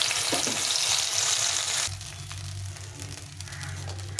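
Masala paste for aloo dum hits hot oil with a loud, bright hiss that abruptly drops to a softer, steady frying crackle, without any talk.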